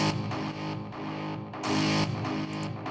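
A distorted, guitar-like synth pluck plays without EQ, harsh and aggressive with dense gritty harmonics, repeating in short punchy hits over a thick sustained bed and swelling louder near the middle.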